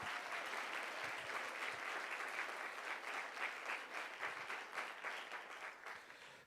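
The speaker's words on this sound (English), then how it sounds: "Let's give them applause, please." An audience at an awards event claps steadily, a dense, even wash of applause that holds for several seconds and slowly thins toward the end.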